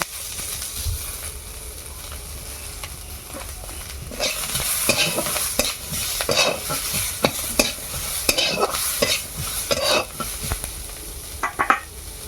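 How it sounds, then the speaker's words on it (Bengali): Chopped onion drops into hot oil in a wok that just fried fish for a village-style Bengali fish curry, giving a close, loud sizzle with rhythmic stirring scrapes and clanks of the utensil against the metal. "মা ওই কড়াতেই পেঁয়াজ কুচি দিয়ে দিচ্ছে"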